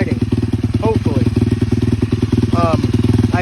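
A Honda CRF150 replica motorcycle with a brand-new engine runs at a steady idle, a close, rhythmic thumping putter, while someone talks over it.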